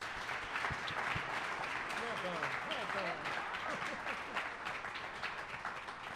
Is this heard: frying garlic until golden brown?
no